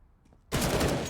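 Sudden loud burst of gunfire from Counter-Strike on the Overpass map, a scoped rifle headshot kill during a professional esports match, erupting after a near-silent lead-in and sustained close and dense to the end.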